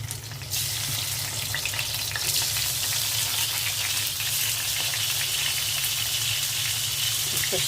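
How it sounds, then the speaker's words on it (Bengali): Potato, eggplant and pointed gourd pieces frying in hot oil in a pan: a loud, steady, hissing sizzle that bursts in after a brief quieter moment and continues evenly. "এখন বেগুন আলু আর পটলটা ভেজে নেব। আলুগুলো দিয়ে দিচ্ছি"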